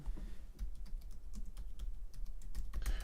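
Keys clatter steadily on a computer keyboard while a search phrase is typed, the crisp taps close and fairly loud over a low constant hum, with no voices.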